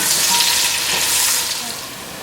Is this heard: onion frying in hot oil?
yes